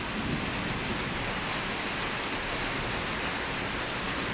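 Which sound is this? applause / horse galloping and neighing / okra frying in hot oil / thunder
thunder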